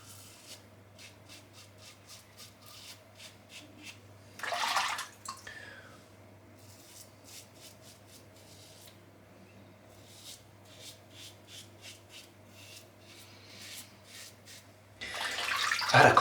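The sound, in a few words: straight razor shaving stubble after water splash, Heritage Hill Washington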